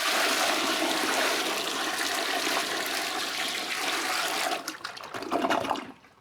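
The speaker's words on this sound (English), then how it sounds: "So it just flushed the toilet automatically for you, clearing everything through the pipes." A toilet power flush rushes loudly and continuously for several seconds up close, then gurgles and trickles as the water drains away and fades out.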